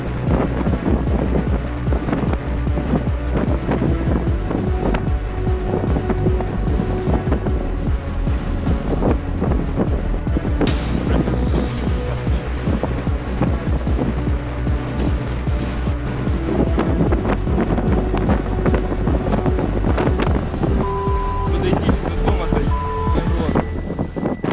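A violent storm at sea around a ship loaded with cars, with loud, constant wind roaring against the microphone and heavy waves crashing, a rough, unbroken din throughout.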